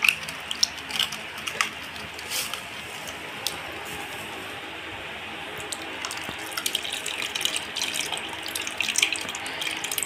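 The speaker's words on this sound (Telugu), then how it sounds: "ఇప్పుడు ఈ చింతపండు పులుసు కూడా ఈ ఎనిపిన కందిపప్పులో వేసేస్తుంది." Tamarind juice poured into a pot of cooked toor dal for homemade sambar, a steady close liquid trickle with faint splashes running the whole time, no talk over it.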